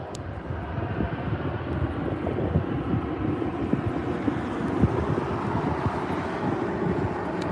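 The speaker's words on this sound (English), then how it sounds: "Very smooth touchdown from that Delta A321." A Delta A321 airliner touches down on runway 24R at LAX with a broad, steady jet engine roar and rumble, heard from a distance. Wind buffets the microphone throughout, and there is no speech.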